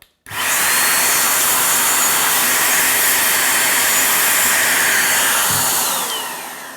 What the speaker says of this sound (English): what I want to do now with the hair blower is basically blast out that hole there and free any loose debris